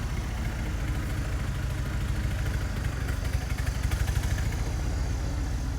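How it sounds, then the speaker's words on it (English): A tractor engine idles with its carburetor turned all the way down, giving a steady, low, close chugging with an even rhythm and no talking. "I run the tractor carburetor all the way down."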